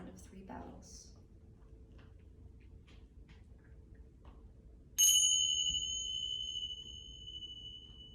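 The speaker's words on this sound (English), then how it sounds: "I'll be bringing you out the same way we came in, with the sound of 3 bells." A meditation bell rings once, clear and bright, then hangs in a long fading shimmer over quiet room tone, after earlier faint small taps and clicks.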